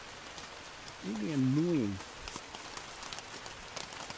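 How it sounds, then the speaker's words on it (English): Rain falling on a tarp shelter in New Zealand, a steady patter of drops with scattered louder taps, while a person talks briefly near the start. "And look, it's finally raining."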